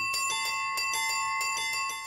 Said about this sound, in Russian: Больше 80 разных звонов может воспроизводить электронный звонарь.